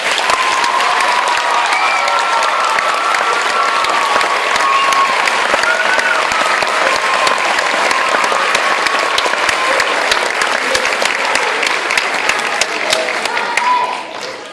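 Sustained audience applause at a school moving-up ceremony, a loud, dense wash of clapping with some crowd murmur and faint voices underneath, holding steady for about fourteen seconds before tapering off.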